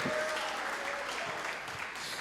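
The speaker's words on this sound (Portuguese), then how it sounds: "Dá glória e bate palmas para Jesus" A church congregation claps and applauds during a sermon, a steady dense wash of many hands at moderate level, filling the space evenly with a few faint voices underneath.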